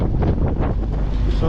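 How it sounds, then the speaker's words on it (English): Steady wind buffets a sailing boat heading straight into it on a sunny, warm day, a loud continuous low roar of gusts across the microphone with faint water wash beneath, no speech. "Wind's still against us on the nose."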